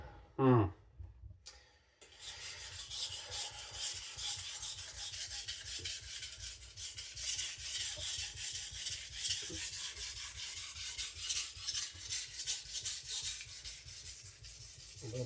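A MagnaCut steel chef knife scrapes rhythmically across a diamond CBN sharpening stone, close and quiet, in repeated gritty rubbing strokes with a short pause near the start.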